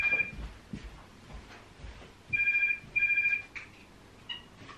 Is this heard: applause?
no